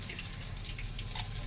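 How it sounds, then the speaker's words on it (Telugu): Tamarind soaking water poured into mashed moong dal for pesarapappu charu, a steady close liquid trickle and splash running without a break and without talk. "ఇందులో నేను చింతపండు నానబెట్టుకుని ఉన్నా ఆ చింతపండు నీళ్లు కూడా వేసుకుందాం"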